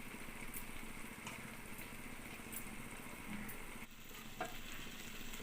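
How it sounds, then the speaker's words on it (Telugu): Fish pieces hit a pan of masala and sizzle quietly, a soft steady frying hiss with a few faint clinks, close but low in level and free of talk. "ఇప్పుడు మనం కడిగి క్లీన్ చేసి పెట్టుకున్న చేప ముక్కల్ని వేసుకుందామండి."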